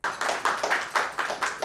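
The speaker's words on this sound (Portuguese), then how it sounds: "Salva de palmas para ele." Audience at a business conference in Brazil clapping for a speaker giving a leadership talk, a series of loud, evenly spaced claps in unison, close and rhythmic, with no talking.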